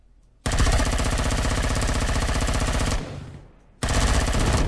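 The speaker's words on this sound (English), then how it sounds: "Let's get this minigun drone." A minigun drone in the space game Empyrion fires a dense, rapid, loud stream of shots, pauses briefly, then opens up again in a second burst.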